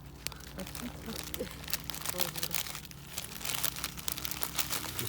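A small piece of paper is crumpled and crinkled by hand at close range, with crackly bursts throughout, under people talking on a hitchhiking trip in Albania.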